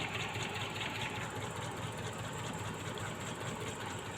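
A motorcycle engine idles steadily at close range while its spark plug wires are checked one by one for electrical leakage, a continuous mid-pitched mechanical hum with a faint ticking rhythm and no talking.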